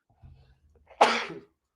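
A single sharp sneeze bursts out close by after a moment of quiet low rumble, loud and brief with a breathy tail.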